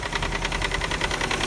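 A Subaru EJ257 engine idles cold with a defective timing belt tensioner, giving a loud, rapid, evenly spaced clacking over a steady close engine drone.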